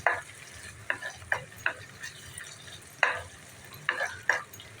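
Tomato and split green chillies stir-fry for a bitter gourd curry, a soft sizzle under a handful of sharp spatula scrapes against the pan, close and fairly quiet.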